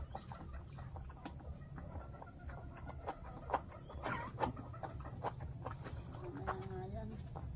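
A hen clucks in short bursts amid farmyard ambience, with faint background noise throughout.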